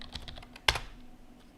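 Computer keyboard typing during Blender 3D modelling work: a few light key taps early, then one sharp, louder burst of clicks, followed by quieter tail-off, close and alone.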